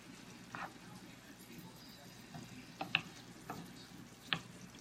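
Cashew chicken sauce simmers in a pan with a faint, low bubbling and a few soft pops and light scrapes, quiet and close.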